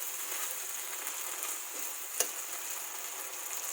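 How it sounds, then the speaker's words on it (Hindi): Masala frying in released oil in a pan for a Lahori khoye wale chane dish gives a steady, even sizzle with no voices over it. One sharp click comes midway. "ये मसाला मैंने 5-7 मिनट तक भून लिया है।"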